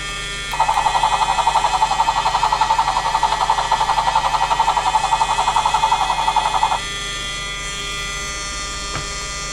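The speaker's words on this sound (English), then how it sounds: "And that activates the motor for the main rotor." The electric motor turning the main rotor of a motorized toy 'Chinook'-style helicopter model gives off a loud, steady high-pitched whine with a fine buzzing flutter, starting abruptly, running for about six seconds, then cutting off, close by.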